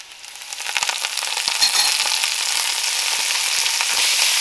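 Garlic, chili pepper, cumin and fresh herbs get stirred in a hot frying pan. A dense sizzle builds and holds steady, with soft scraping stir strokes and nobody talking.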